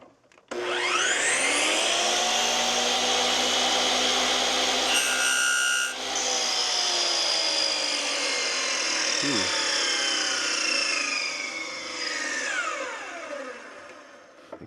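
Power saw fitted with a carbide-tipped blade whines loudly and steadily through wood on a 45-degree angle cut, running about ten seconds with a brief dip mid-cut before spinning down; no talk over it.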